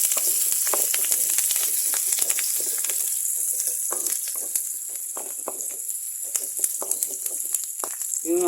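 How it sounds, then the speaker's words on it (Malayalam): Shallots and curry leaves sautéing in hot oil for a prawn and mango curry: a steady bright sizzle with crackles and pops throughout, close and continuous, with no talk. "നന്നായിട്ടൊന്ന് വഴറ്റാം"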